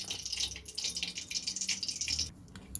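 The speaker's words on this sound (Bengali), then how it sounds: "যে মিক্সির বাটিটা আছে ওইটা দিয়ে অল্প জল দিয়ে দেবো।" A small amount of water is poured from a mixer grinder jar in a home kitchen, making a soft, close hissing splash for about two seconds before it stops, with no talking.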